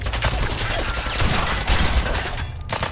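Dense, continuous gunfire in the video game Fallout 4 plays as a loud, steady barrage of overlapping shots for the whole stretch, with no clear gaps.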